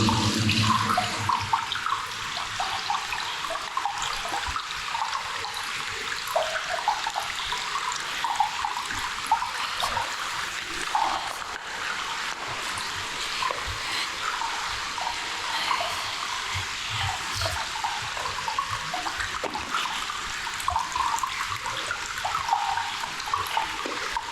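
Water flowing inside a dark cave at midnight, a constant rushing trickle and splash that echoes steadily for the whole stretch, fairly close and unbroken, with no one speaking.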